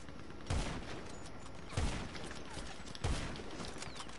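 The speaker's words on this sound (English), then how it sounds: "Stop shooting at me!" Three loud gunshots from GTA, spaced evenly about a second and a quarter apart, each a sharp booming crack over a steady background hiss.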